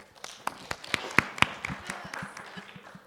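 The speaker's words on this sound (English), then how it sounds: "Well done. Round of applause," Scattered claps from a small team of educators at a professional development workshop, a few distinct sharp hand claps spaced irregularly and fairly near, thinning out toward the end with faint background murmur.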